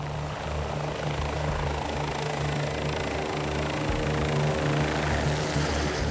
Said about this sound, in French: À plus de 200 km/h, l'hélicoptère est très vite sur zone.